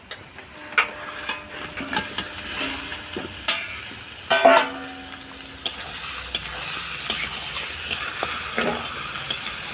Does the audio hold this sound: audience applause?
no